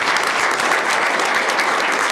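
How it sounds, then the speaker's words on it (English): Steady round of applause from the attendees at a school district board meeting, dense even clapping held for about two seconds with no voices over it. "Carol Cleven, if you guys could give a round of applause for her, she was wonderful."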